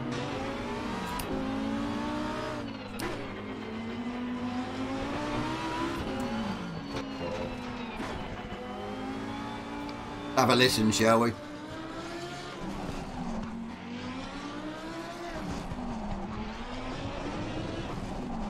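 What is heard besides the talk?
Lamborghini-badged Audi car engine revving in racing video game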